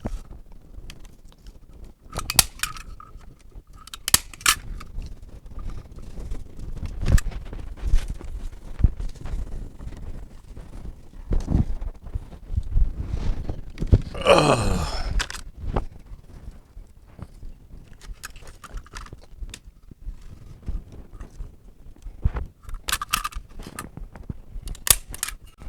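A staple gun fires staples into a wooden lattice frame for a deck base, sharp isolated snaps spaced several seconds apart, close and crisp, amid handling noise and soft shuffling with no talk.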